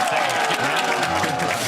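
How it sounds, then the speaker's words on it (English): A studio crowd at the 2022 LEC Spring semifinal cheers for G2, a short, steady burst of massed shouting and applause, loud and continuous throughout. "And cheer for a G2 win?"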